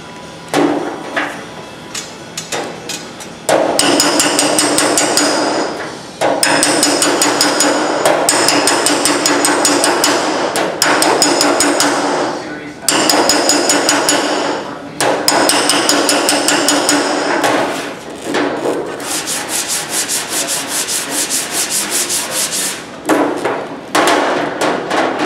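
Metal is worked with a slapping spoon and hammer, producing rapid, loud, close repeated striking in long bursts separated by brief pauses, each run a dense rattle of metallic blows.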